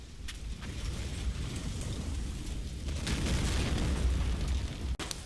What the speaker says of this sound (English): The strength of the resulting explosion knocks out the adjacent Sturmpanzer as well.